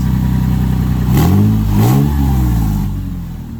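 A 2010 Toyota 4Runner engine revs with its exhaust unbolted, a loud raw rumble swelling in two quick throttle blips over a steady idle, close up with no talking.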